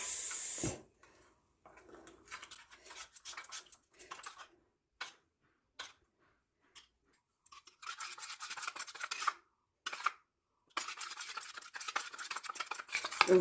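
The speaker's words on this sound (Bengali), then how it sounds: "এটাকে আমি জলে গুলে নেব" A spoon stirs biryani masala into a little water in a bowl, giving quick scraping and clinking strokes in short bursts with brief pauses, close and fairly quiet.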